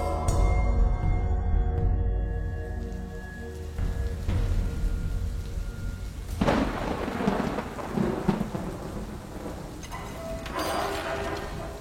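A thunderstorm sound effect sets a horror story scene: heavy, constant rain hisses throughout while deep thunder rumbles and cracks roll in, loud and close, with no voices over it.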